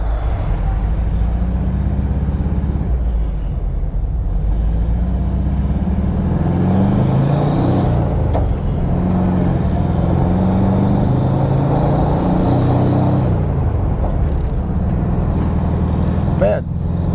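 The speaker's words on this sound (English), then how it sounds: "She sounds like she's on the 700-800 side." A 1971 VW Bus engine idles steadily and loudly around 700-800 rpm, a low continuous rumble with slight fluctuations and a few brief clicks.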